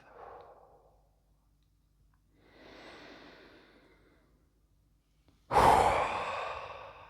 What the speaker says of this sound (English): relaxing and intentionally lengthening and deepening your breath